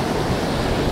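Strong winter storm wind gusting near the edge of Lake Superior, a loud, dense roar buffeting the microphone throughout, with no speech.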